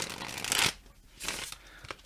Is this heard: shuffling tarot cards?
yes